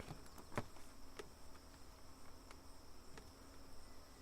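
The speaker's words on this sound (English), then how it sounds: "Let those bees drop down" Honeybees dropping from a swarm into a Colorado Bee Vac box give a faint, steady insect hum with a few soft knocks and clicks, alone and without talk.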